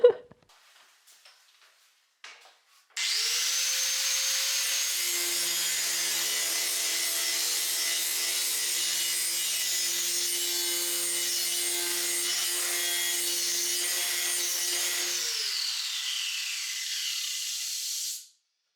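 An angle grinder works on the metal body shell of a Citroën 2CV. After a few faint knocks, a steady, loud, high-pitched grinding whine runs unbroken for about twelve seconds and then cuts off.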